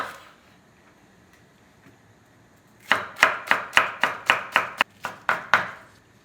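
A knife chops large green onion on a board in ten sharp, evenly spaced strikes, loud and close, after a few quiet seconds with no talking.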